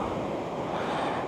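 Ocean surf rolls in on the Boso Peninsula coast between Kujukuri and Choshi, a steady, full wash of breaking waves mixed with wind buffeting the microphone, with no speech.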